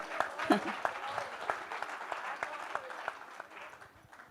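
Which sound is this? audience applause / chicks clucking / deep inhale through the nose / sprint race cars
audience applause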